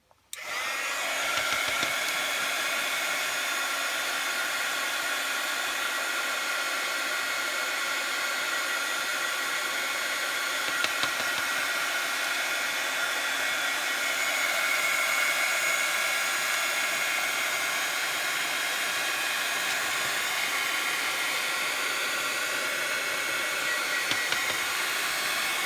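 A hair dryer blows steadily and close for the whole stretch, drying wet paint on an art journal page, its even rushing whine broken only by faint shifts in pitch.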